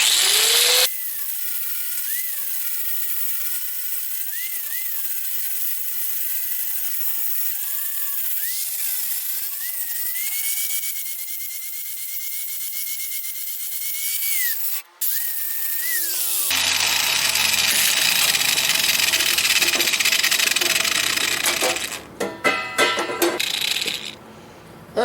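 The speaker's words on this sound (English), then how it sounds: "that was with a grinding wheel" Angle grinder with a grinding wheel working welds on a thin steel trailer side rail, a high whining motor with shifting pitch, then louder harsh scraping grit as the wheel bites, ending in choppy bursts.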